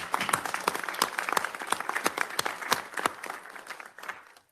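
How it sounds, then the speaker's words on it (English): An audience at an executive committee meeting breaks into steady applause for a guest, many hands clapping densely and evenly before it tapers off at the end. "A big round of applause for Sean Hoy."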